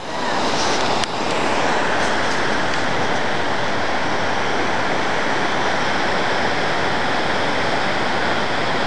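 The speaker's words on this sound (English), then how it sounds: "Check out the waterfall," A waterfall in the woods roars as a loud, steady, dense rush of falling water, continuous and close, with no voices heard over it.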